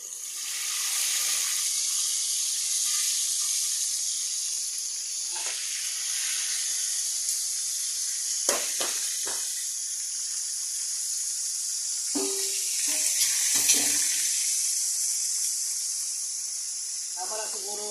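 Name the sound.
fish frying in a pan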